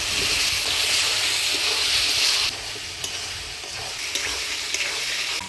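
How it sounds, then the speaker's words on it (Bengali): Fried potatoes being sautéed with spice paste in a pan for a Bengali-style fish curry, a loud, dense hiss of sizzling that drops in level midway, with occasional clinks of stirring. "মশলার সাথে আলু দিয়ে ভালোভাবে কষিয়ে নিলাম"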